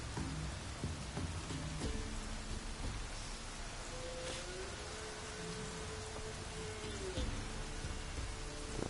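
Steady dense rain falling in The Witcher video game, a constant hiss of drops with scattered sharper patters and a faint distant rumble, with a quiet melodic tone gliding underneath midway.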